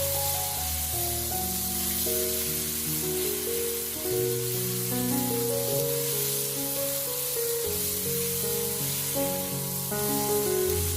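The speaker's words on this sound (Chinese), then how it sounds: "紧接着把西红柿也倒下来，然后继续翻炒，把西红柿的汁水炒出来" Tomatoes with chopped scallion and garlic sizzle steadily in oil in a hot wok as they are stir-fried, a continuous bright hiss running alone the whole time beneath a soft musical backing.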